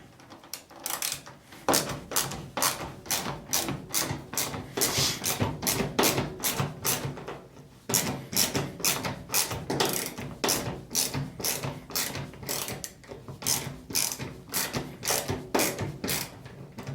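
Screw removed with a Phillips screwdriver or 8mm socket during a drain pump repair on an LG WT1101CW washing machine, a close, rapid run of ratchet clicks repeating steadily for about fifteen seconds with a brief pause.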